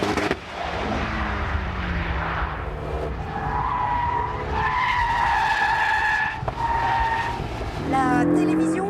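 A Renault Mégane RS Trophy-R slides sideways with its tyres skidding and squealing loudly and continuously, engine droning underneath and a voice briefly heard.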